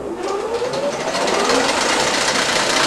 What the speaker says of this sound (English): First, see, we're getting a little air here. You can hear it clattering away, right?